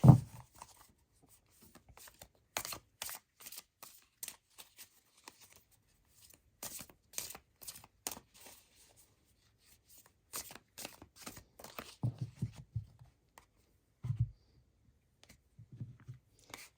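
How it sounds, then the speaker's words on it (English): Tarot cards shuffled by hand at close range, quiet but crisp riffles and flicks arriving in clustered bursts with pauses between them, set against near silence. "let's get the cards right here for the shuffle"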